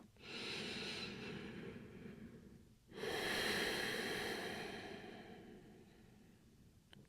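Deep, slow yoga breaths, a long audible inhale followed by a fuller exhale, breathy and close with no talking.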